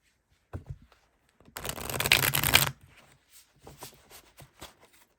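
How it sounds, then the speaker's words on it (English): A tarot deck is shuffled in one quick close riffle lasting about a second, with a few soft card taps and handling sounds before and after. "now we'll shuffle that and put it back for more"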